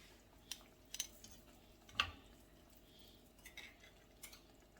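A clean metal spoon is picked up among kitchen utensils while making chicken and red potatoes, giving a few faint, sparse clinks and taps in a quiet room.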